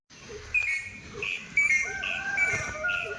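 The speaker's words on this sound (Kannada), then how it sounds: "ಇದು ಯಾವುದೋ ಹಕ್ಕಿ ತುಂಬ ಡಿಫ್ರೆಂಟಾಗಿ ಹೋಗ್ತಾ ಇದೆ" An unusual bird calls outdoors in a town setting near a temple in Kundapura, giving repeated clear whistled notes at a moderate distance over quiet ambient noise.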